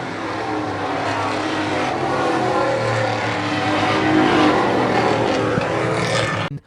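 4-cylinder Pro Stock race cars finishing a heat under the checkered flag at a track, their engines roaring loud and steady in a dense blended drone that cuts off sharply at the end.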